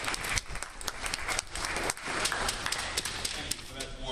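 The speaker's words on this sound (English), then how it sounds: "So I want y'all to give him a nice round of applause." An audience claps steadily for a speaker being introduced at a youth event about law, a dense, fairly loud patter of many hands with some talking mixed in.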